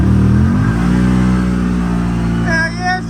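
A loaded Polaris UForce 1000 XL side-by-side, built with ELKA shocks and an RNG clutch, pulls hard in low gear with a loud, close engine note that holds steady and then eases off near the end.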